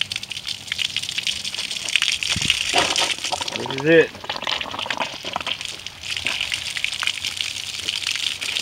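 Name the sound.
water gushing from flushing earmuffs on an OMC boat engine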